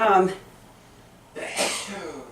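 A person sneezes twice, a short one at the start and a louder, sharper one after a brief pause, close to the listener.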